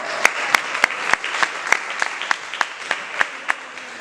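Church congregation clapping in unison for the Lord, sharp evenly spaced claps at a steady rhythmic beat, about fourteen in a row, over a soft room murmur.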